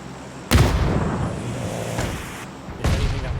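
Frag grenade blasts in a PUBG esports scrim match: a loud broadband boom at about half a second, a softer thud near two seconds and another heavy blast near the end, over steady game ambience.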